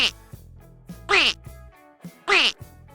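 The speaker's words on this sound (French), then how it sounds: "C'était le cancanement du canard." A duck quacks three times in a slow, evenly spaced series, each quack nasal and clear, close by.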